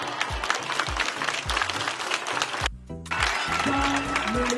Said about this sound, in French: Ça mérite des applaudissements.